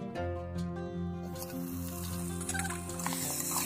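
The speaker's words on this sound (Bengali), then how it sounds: "এবার মাটনটাকে খুব ভালোভাবে মশলার সঙ্গে নাড়াচাড়া করে কষিয়ে নেব" Mutton being stirred with spices in a pan gives a soft, steady sizzle that builds slightly, heard close but partly masked by prominent background music.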